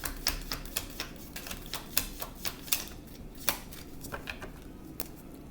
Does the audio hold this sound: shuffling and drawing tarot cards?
yes